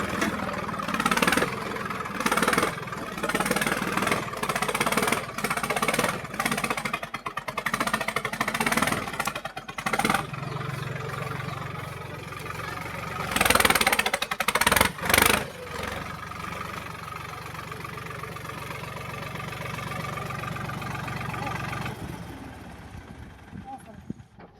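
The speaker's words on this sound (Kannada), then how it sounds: "ರೌಟ್ರ್ ಬಿಚ್ಚಿ ಟ್ರ್ಯಾಕ್ಟರ್ ತಗೊಂಡು ಹೋಗ್ತಾ ಇದೀವಿ ಗಾಯ್ಸ್." A tractor engine runs steadily with repeated revving surges, loud and close, while people talk over it. The rumble settles into a smoother idle before cutting off near the end.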